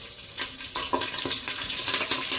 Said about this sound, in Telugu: నూనె హీట్ ఎక్కిన తర్వాత నేను ఇక్కడ జీరా, సాజీరా, ఎండుమిర్చి, తర్వాత కర్రీ లీఫ్